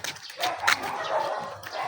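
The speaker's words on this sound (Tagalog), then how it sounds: "Ayun ang mga dog." Dogs on a neighborhood walk give a few short, mid-distance barks and yips over outdoor background noise.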